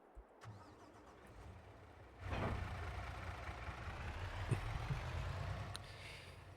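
A truck engine in the farming video game Farming Simulator with the No Man's Land map cranks briefly and catches, then settles into a steady mid-pitched idle, moderately loud with no talk.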